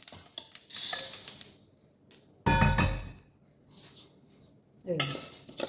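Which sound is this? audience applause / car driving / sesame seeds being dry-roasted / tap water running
sesame seeds being dry-roasted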